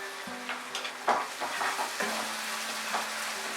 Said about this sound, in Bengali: এবারে এর মধ্যে আমি 2-3 টেবিলস্পুন জল অ্যাড করে মশলাটাকে কষিয়ে নিচ্ছি।